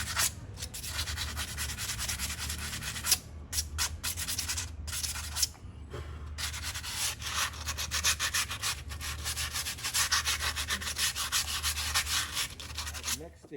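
Rust being scrubbed off a rusty 2004 Toyota Matrix brake caliper, a continuous close abrasive rasping and scraping with a couple of brief pauses.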